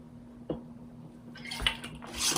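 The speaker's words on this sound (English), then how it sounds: "I'm just going to go ahead and shake that up really well" A glass jar of herbal tincture made from vodka and wine is shaken, giving a few soft sloshing and splashing bursts of liquid close by after a quiet start.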